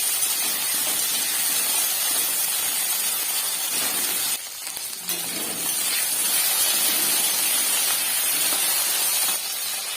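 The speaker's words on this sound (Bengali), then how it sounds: "জল আর লঙ্কা একসঙ্গে দিয়ে দিচ্ছি" Water and green chillies hit a hot pan of frying spices, giving a loud, steady sputtering hiss of steam and oil that dips briefly midway, with no talking.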